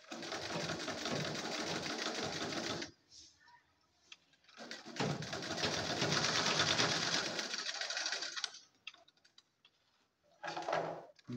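A sewing machine stitches a pair of pants in long, loud runs of steady mechanical whirring and needle chatter, with short pauses between bursts and a brief final run.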